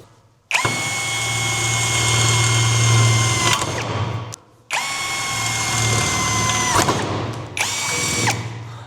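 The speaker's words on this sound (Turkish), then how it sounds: "bana mısın demeden demiri deliyoruz şu anda" A cordless drill from a Retools set whines loudly through iron in two long bursts and a shorter third one, with brief pauses between runs.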